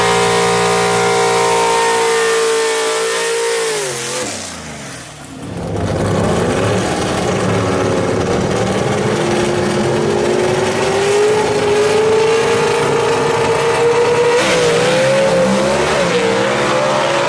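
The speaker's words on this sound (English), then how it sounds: "We got a drag race here" Gasser drag cars such as a 1962 Chevy II roar at Mooresville Dragway, a loud engine holding high revs, then dipping before surging back into a long, rising acceleration that stays close and dominant.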